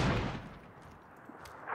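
A single sharp gunshot in PUBG on the Erangel map cracks at the start and fades into a quiet, decaying tail.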